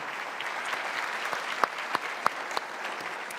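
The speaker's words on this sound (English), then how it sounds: "Let's have a big round of applause for him" An audience at a governors' panel on education and technology applauds for Utah Governor Spencer Cox, a steady, fairly soft patter of many hands with a few sharper individual claps standing out.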